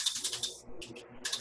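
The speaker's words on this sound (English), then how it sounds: "we can type in here" Typing on a computer keyboard, several short bursts of quick clicking keystrokes separated by brief pauses, close and fairly quiet.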